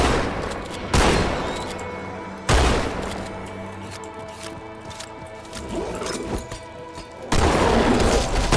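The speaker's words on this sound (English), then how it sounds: "Have a grenade." A grenade explosion and gunfire in the Halo 2 video game, several heavy booming bursts spaced across the stretch, each decaying into rumbling echoes, with steady in-game background noise between them.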